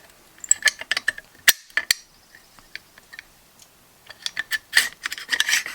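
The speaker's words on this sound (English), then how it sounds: "Now let's take the bolt carrier group, drop that in, and make sure that that's going to drop in there as well too." A bolt carrier group is slid and dropped into a 6.5 Grendel upper receiver, making a burst of close metallic clicks, scrapes and sliding rattles, a brief lull, then more quick clicking and rubbing.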